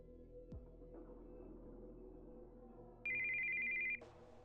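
A phone rings in the Steins;Gate 0 video game: a steady electronic ringtone tone about a second long cuts in loudly over a low ambient game hum, ending abruptly.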